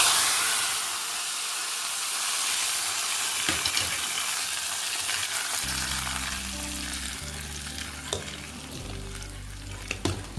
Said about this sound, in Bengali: লঙ্কা 5 ফোড়ন, জিরে, তেজপাতা দিয়ে এটা সম্বরে দিচ্ছি